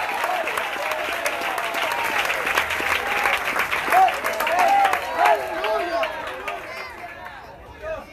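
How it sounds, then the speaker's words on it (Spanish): Sustained applause from a church congregation at an evangelistic campaign service, a dense, steady wash of clapping with crowd noise and a voice speaking over it, fading somewhat toward the end. "Dele fuerte ese aplauso al Señor en esta hora."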